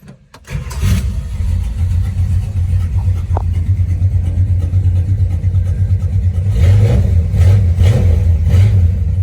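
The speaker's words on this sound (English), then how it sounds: "So we'll get it fired up and take it for a ride." A cold 1969 Plymouth Road Runner engine cranks and fires, then settles into a loud, rumbling V8 idle before being revved harder toward the end, heard up close with no talking.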